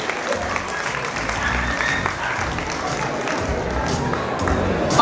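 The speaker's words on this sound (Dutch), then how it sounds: "Applaus voor de overige exposanten." Applause from the audience at a dog show in the Netherlands after the terrier group placings, a sustained crowd clap under an announcer's voice over the loudspeaker, swelling slightly toward the end.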